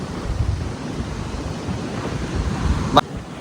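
Wind gusts at a flooded seashore, buffeting the microphone over the low rush of surf, with a sharp click near the end.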